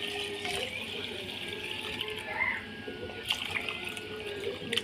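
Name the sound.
cow's milk poured into tray of rice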